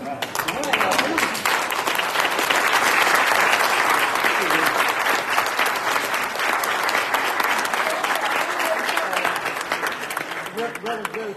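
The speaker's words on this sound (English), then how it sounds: "please stand so that we can give you a round of applause?" A crowd honours university alumni with sustained, loud applause that rises quickly and holds steady for about ten seconds, dense clapping filling the room with a few voices mixed in.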